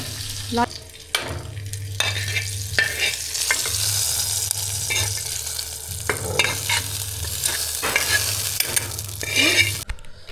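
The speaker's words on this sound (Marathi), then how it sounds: "आता जातोय मस्तपैकी वरून तडका असा झंगणी असा तडका सन सन सन सन" Tadka is poured over dal khichdi and sizzles, a steady crackling hiss with scraping stirs and clinks, a low hum running underneath, continuing for about ten seconds with no talk.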